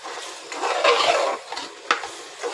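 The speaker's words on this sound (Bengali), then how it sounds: "যতক্ষণ চালটা শুকনা ভাজা ভাজা হবে ততক্ষণ নাড়তে থাকবো।" Dry rice being stirred in a pot over lowered heat for spicy pulao, a steady scraping rustle of grains against metal with a few sharper knocks of the spoon, close and alone.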